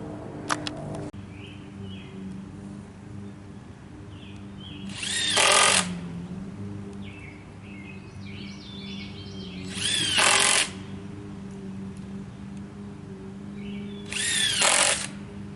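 A power drill drives screws to secure trail sections outdoors, sounding in three separate short whirring bursts spaced several seconds apart, with birdsong and quiet background noise between them.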